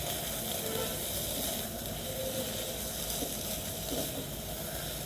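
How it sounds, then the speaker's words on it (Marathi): Potato pieces sautéing in a kadhai with ghee as sugar melts over them, a steady soft sizzle and hiss that continues unbroken, fairly quiet and close. "ब्राऊन कलर येईपर्यंत छान परतवत राहायचं आलूला। साखर मेल्ट होत आहे"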